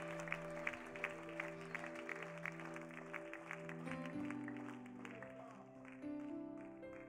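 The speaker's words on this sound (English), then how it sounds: "Can we clap our hands unto God and worship him?" A church congregation claps hands in worship, a steady run of rhythmic claps heard at moderate distance over sustained organ or keyboard tones.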